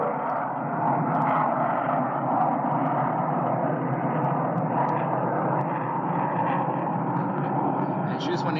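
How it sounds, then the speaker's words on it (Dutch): A steady, broad roar of an airplane passing overhead fills the background, loud and continuous while someone talks over it. "Ik hoop niet dat jullie te veel last gaan hebben van het vliegtuig,"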